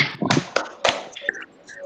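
A few quick claps and taps from a group doing the tepuk semangat spirit clap during an online class, short close bursts in a brief uneven pattern.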